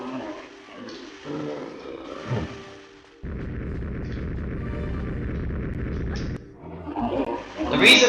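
A mutant in the RX-Tech Mines of Tomb Raider 3 lets out a long, loud, steady roar lasting a few seconds, framed by quieter game ambience and scattered noises before and after.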